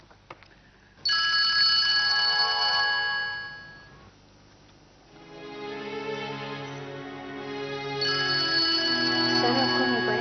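A mobile phone rings loudly in an office, a bright repeating melodic ringtone that starts after a second, dips briefly around the middle, then swells back to full volume.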